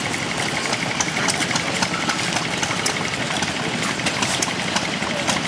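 Vintage stationary engines, one Stirling and one petrol, run together at an outdoor display, giving a steady, continuous mechanical chugging and rattling at close range with faint background voices.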